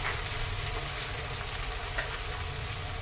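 Ginger and garlic fry in a pan with a steady, dense sizzle that holds at an even level throughout, close by and with no talking.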